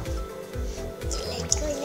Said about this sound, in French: on le remplit d'eau complètement.